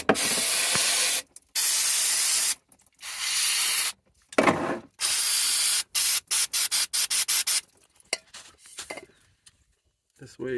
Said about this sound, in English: Give it a quick clean with some brake clean.